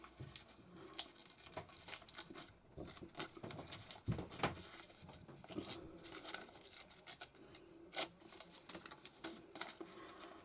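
Excess napkin paper glued onto an old item being torn and crinkled away, soft close pattering, rustling and ripping in irregular bursts, faint, with one sharper tear.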